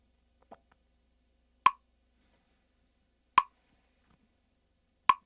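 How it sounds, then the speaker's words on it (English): Three sharp, isolated clicks sound at a slow, even pace against near silence, with a faint soft tap before the first. "Let's start the click track here."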